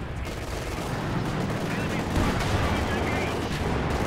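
Video-game machine gun keeps up suppressing fire in a World War II-style battle, a dense continuous clatter of gunfire and distant combat noise across the whole stretch.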